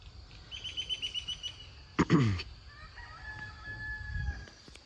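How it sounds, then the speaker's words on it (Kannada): Rooster crowing in a village setting, one loud close cock-a-doodle-doo rising mid-clip, preceded by a run of rhythmic clucks or chirps and followed by faint distant calls. "ಕೋಳಿ ಸೌಂಡು"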